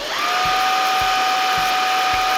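A budget Korean cordless stick vacuum cleaner with a brush head is switched on; its motor whines up within a moment to a steady high-pitched hum, with faint regular ticking underneath and no talking.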